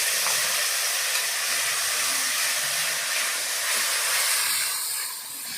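Spice mix dropped into hot white oil with cumin in a wok, giving a steady, loud hissing sizzle that runs continuously and tails off slightly at the end.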